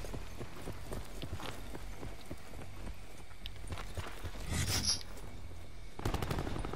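Gunfire in Call of Duty: Black Ops 4, quick bursts of rapid shots and scattered single cracks over a low game rumble, moderately quiet with louder volleys near the end.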